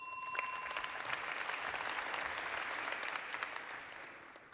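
A crowd applauds continuously for several seconds, a dense, steady wash of many hands clapping at moderate distance that tapers off slightly at the end.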